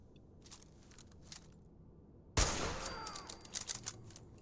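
Quiet ambience in Fallout 4 at the Corvega Assembly Plant, then a sudden sharp gunshot followed by a few more scattered shots and echoing reverberation.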